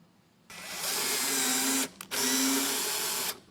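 A power drill drives a screw to fasten a vinyl railing top rail: a steady high whir starting abruptly, a brief stop and stutter midway, then another sustained run before cutting off, close and loud.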